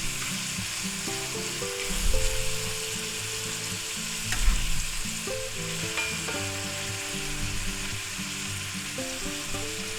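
Chopped green onions stirred into a frying pan: a continuous soft sizzle with a couple of louder stirring bursts, under a faint melodic background.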